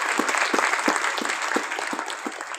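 Audience at a school annual function applauding steadily, a dense wash of many hands clapping with no speech over it.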